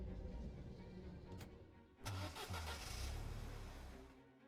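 A car engine starts up in a video game escape scene, with a sharp crank and a low rumbling idle that swells and settles, heard alone and fairly close.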